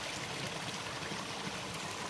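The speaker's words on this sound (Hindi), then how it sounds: "क्या बात है, पानी की आवाज़ कितनी मधुर आ रही है।" Water in a Himalayan forest stream flows steadily and continuously, a dense broadband rush with no voices over it.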